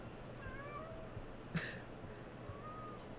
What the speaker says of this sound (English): You're gonna hear a lot of my cats meowing in this video